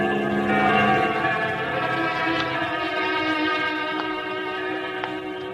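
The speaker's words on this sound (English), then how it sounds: "the bells are still ringing." Church bells ring steadily in an old radio drama, their tones sustained and layered, with a few fresh strikes sounding over the lingering hum.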